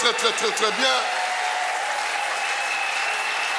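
A church congregation breaks into loud, sustained applause right after a preacher's voice, filling the room with dense clapping.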